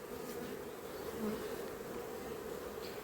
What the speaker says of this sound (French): les abeilles sont bien quand même